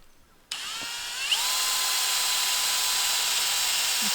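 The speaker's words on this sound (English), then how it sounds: "He's drilling at a little angle." A power drill starts up and whines steadily at high pitch, its tone dropping slightly as it bites into a maple tree trunk at an angle for sap tapping, running continuously nearby.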